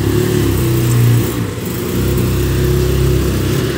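A car engine hums and revs as the vehicle is driven out of a shop, a loud, low, throbbing drone that surges briefly and then settles back to a steady run, with no voices.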